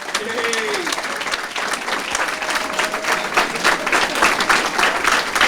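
An awards-ceremony audience breaks into loud sustained applause for an award recipient, a dense wash of many hands clapping with a few cheers and voices mixed in throughout.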